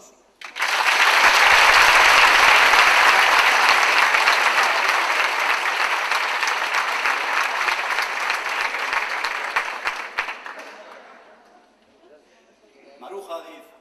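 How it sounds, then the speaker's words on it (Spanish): An audience at a traditional music gathering bursts into loud, sustained applause that swells at once, holds for around ten seconds, then thins and fades, with voices emerging at the end. "un aplauso"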